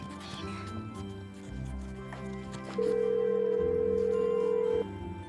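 A telephone in an office gives a steady electronic tone for about two seconds, loud and close, rising over background room noise and faint chatter.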